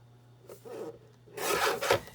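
A paper trimmer cuts cardstock with a short scraping slide, then a louder, longer rasping cut at close range, alone and without talk.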